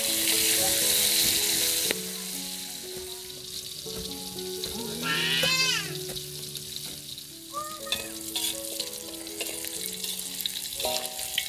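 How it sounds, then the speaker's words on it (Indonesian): Salted patin fish frying in hot oil outdoors in a garden kitchen, a steady loud sizzle running throughout with brief clatters and stirring noises partway through. "Ikan asin patinnya kita goreng dulu."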